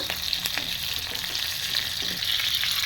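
Green chilli and garlic fry in a pan, a steady close sizzle with light crackles and occasional stirring scrapes.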